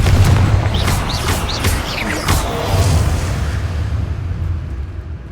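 A Confringo blasting spell bursts in Hogwarts Legacy, one loud booming explosion over a dense rumbling game soundscape, with a few sharper whooshing flourishes, and no talking.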